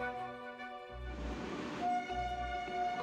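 The Kumbha Express 12369 pulls into Asansol station, a low rumbling train sound joined by a sustained horn-like tone, fairly close and loud without talk.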